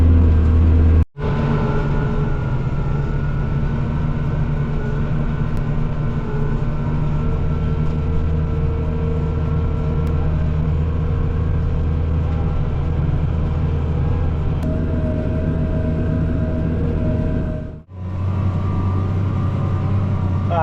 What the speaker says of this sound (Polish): Pierwszy raz w życiu oramy na dwa traktory.